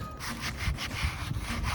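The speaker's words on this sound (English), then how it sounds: "Very gently, I'm sanding it with a sanding block." Close, rhythmic back-and-forth rasping of a sanding block rubbing over a wooden surface, steady and gentle strokes with no talking.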